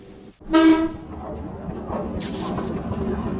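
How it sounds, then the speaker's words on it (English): An old General Electric mine locomotive runs through an underground haulage tunnel, opening with a loud, short horn-like toot and then settling into a steady rumbling clatter at moderate level. "we're on this old school General Electric mine locomotive, and we're flying down this tunnel"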